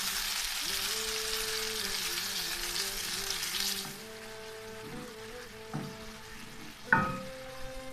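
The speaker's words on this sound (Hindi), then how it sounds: "और इसको अच्छी तरह फ्राई कर लेते हैं।" Mutton fries in a pot with black pepper and small cardamom, making a loud broadband hiss for about four seconds that then drops away, leaving a steady tonal hum with a few knocks of the utensil near the end.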